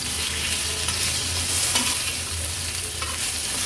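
Thin potato slices stir-fry on a high flame with loud, continuous sizzling and the scrape of stirring close by, with no voices.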